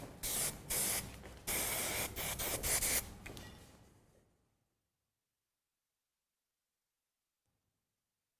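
Several short hissing bursts of hair spray, close and loud, followed by a longer spray that fades into silence.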